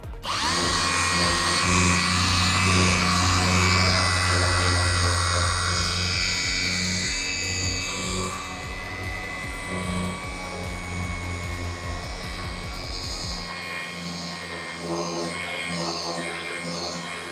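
A battery-powered polishing machine runs at medium speed on a vehicle finish with rock chips, giving a loud, steady whine with a tonal hum that holds throughout, dipping slightly midway, with no talking.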